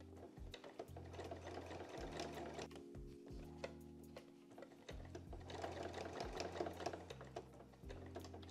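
Sewing machine top stitching a bucket hat seam to the crown, with quick mechanical whirring bursts that start and stop in short runs, ticking needle clatter between pauses, close and clear.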